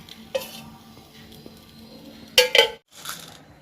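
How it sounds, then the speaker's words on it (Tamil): Oil poured into a pan for tempering, heard as a low hiss with a sharp sizzle and clatter of the pan and utensil in two quick bursts, then a short pause and more sizzling, close with no talk. "அந்த பக்கம் எண்ணெயை ஊற்றிக்கலாம்."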